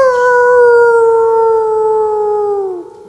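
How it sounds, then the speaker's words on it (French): A jackal gives one long, mournful howl, loud and close, holding steady for about three seconds before tailing off, with no other voices or talk. "un chacal lança un jappement lugubre, suivi tout de suite après par d'autres chacals"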